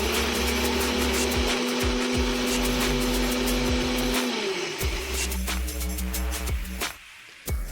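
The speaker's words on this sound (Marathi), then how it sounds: "त्याच्यानंतर आपण आपलं उरलेलं खोबरं घेऊया आणि पुन्हा एकदा मिक्सरला लावून घेऊया" Close and loud, a mixer grinder churns grated coconut with spices for a Malvani mango raita, its motor droning steadily before slowing and winding down midway, followed by a few faint rattles.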